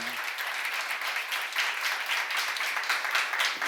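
A church congregation at a seminar claps together, a dense, even patter of many hands that stays moderately loud and continuous from start to finish with no talking over it.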